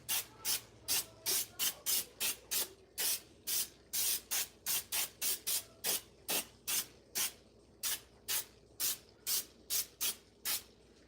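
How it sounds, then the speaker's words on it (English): Aerosol can sprayed in repeated short hissing bursts beside a kitchen sink, roughly two per second, steady and close, with no talking. "I'm gonna spray it over here by my sink."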